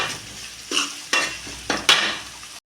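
Onions fry in a pan, sizzling softly while a utensil scrapes and stirs them in four distinct, close strokes.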